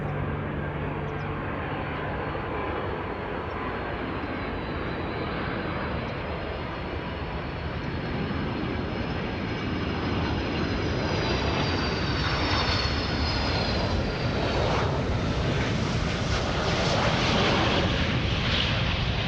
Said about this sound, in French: L'avion de Jacques atterrit en France.